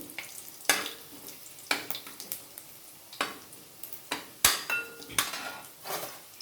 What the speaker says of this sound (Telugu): కొంచెం ఆవాలు వేసుకొని చిట్టపెట్లు ఆడాక ఒక్క ఎండు మిరపకాయ